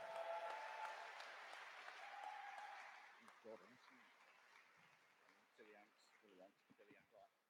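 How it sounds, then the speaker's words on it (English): Convention closing ceremony crowd at AmeCon 2018 claps for a trophy winner, a broad burst of applause that fades over a few seconds before a presenter starts talking over the dwindling clapping. "Give it a round of applause."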